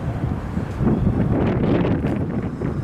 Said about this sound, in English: It's quite a windy day today, quite sunny.